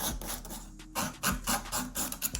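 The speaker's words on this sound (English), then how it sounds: "while I sand off that layer, I'm going ahead and smoothing out that line from where the tip meets the natural nail" An acrylic nail tip layer being sanded with a hand file, smoothing the seam where the tip meets the natural nail; close, soft rasping strokes repeat in a quick uneven rhythm with brief pauses.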